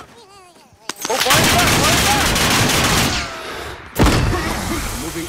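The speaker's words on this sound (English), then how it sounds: "Grab my PPSH, man. Fire that bitch." PPSh submachine gun firing in Call of Duty: Warzone, a loud sustained burst of rapid automatic fire that breaks off, then a second burst starts, with a short voice before the shooting.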